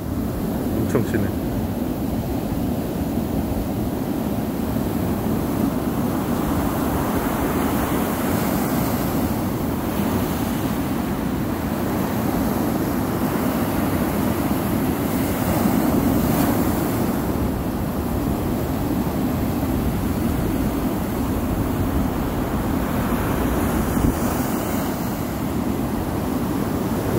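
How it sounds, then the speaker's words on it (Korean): East Sea surf at Gyeongpo beach, a continuous broadband roar of waves breaking with steady wind buffeting the microphone, loud and unbroken throughout with no distinct individual crashes. "파도랑 엄청 치네"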